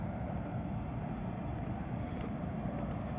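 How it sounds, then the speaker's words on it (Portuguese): Steady outdoor wind buffeting the microphone on a street in the Serra Gaúcha, Canela, on a cold day, a continuous loud low rumble with no pauses. "Agora deu até um melhorado o vento."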